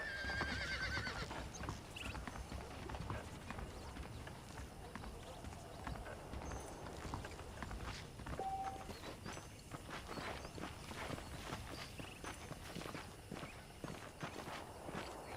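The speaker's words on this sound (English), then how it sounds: "The horses are saddled up over here." Horses in the video game Red Dead Redemption clip-clop at a steady walking pace, hooves tapping rhythmically on hard ground, with an occasional whinny and a voice speaking over the hoofbeats.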